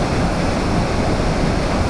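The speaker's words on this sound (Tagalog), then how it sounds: "at napakalakas po ng agos ng tubig" The powerful, wide cascade of Little Niagara Falls in Surigao del Sur, Philippines, roars as a constant, loud, unbroken rush of falling water close by, with no other sounds.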